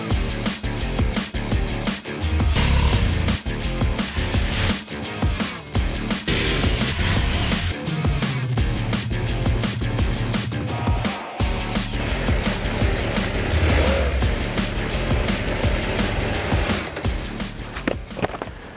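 A 2023 KTM 890 Adventure motorcycle engine revs and strains continuously while riding off-road over rough ground, with rattling, bumps and wind noise throughout.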